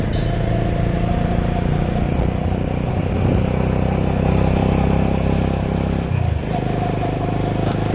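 A motorcycle engine revs and pulls away at speed in a police chase, a loud continuous roar with a dip in pitch near the end as it accelerates off.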